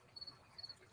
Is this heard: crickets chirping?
yes